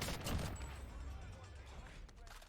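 FFAR rifle firing in Call of Duty Warzone: a dense, rapid burst of gunfire, strongest at the start and then fading into a quieter rattle, with a voice talking over it.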